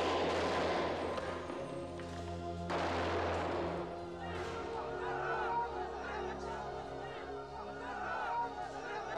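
Gunfire in Beirut from a movie trailer crackles in a few sharp bursts amid a dense, noisy mix of crowd chatter and voices, with a lingering low rumble underneath.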